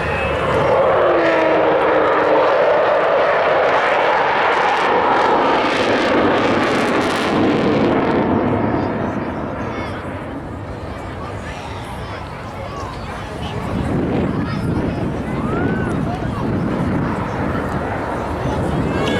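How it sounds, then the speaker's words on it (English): An Avro Vulcan bomber roars loudly overhead at an airshow in Scotland, its jet engines a heavy sustained thunder that swells and fades slightly midway, then builds again while the landing gear lowers. "As you see, not the quietest of aircraft, but certainly one of the most impressive."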